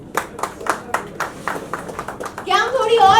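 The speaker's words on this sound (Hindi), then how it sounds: "क्या हम थोड़ी और एनर्जी के साथ तालियां बजा सकते हैं?" An audience claps at a film poster launch event, a quick, fairly even run of about a dozen claps, then a voice speaks over the end of the clapping.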